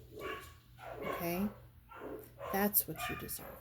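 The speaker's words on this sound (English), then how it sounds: "Sorry about the dogs." Dogs bark a few times in the background indoors, partly masked by a person talking steadily throughout.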